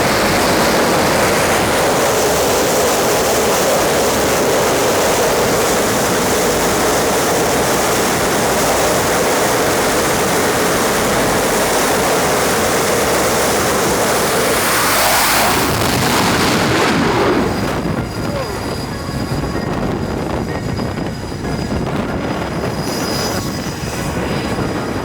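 Aircraft catapult launch on the deck of the USS Gerald R. Ford carrier: a loud, steady roar of jet power with broadband rushing noise that builds for about fifteen seconds, then cuts sharply to a quieter wind-blown rumble.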